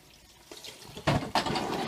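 Running water rinsing the parts of a Carpigiani 141 ice cream machine, with soft trickling that breaks into a few brief, louder splashes close by.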